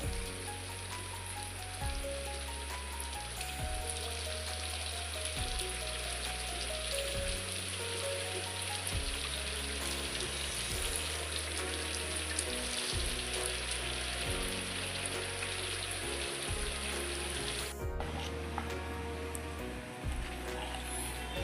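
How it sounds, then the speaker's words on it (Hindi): Steady rain falls outdoors in cool, misty weather, making a continuous soft patter and hiss. It plays underneath prominent devotional music, with no talking. "और बारिश तो अच्छी खासी लगी हुई है"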